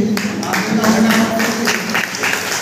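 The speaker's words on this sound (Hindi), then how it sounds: "जोरदार तालियों से" Loud applause from an audience at a Hindi-language event welcoming a respected guru, broad steady clapping over about three seconds with a voice running underneath.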